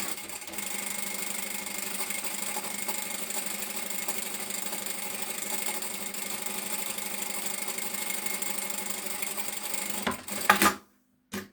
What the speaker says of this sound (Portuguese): vou passar uma costura em cima da linha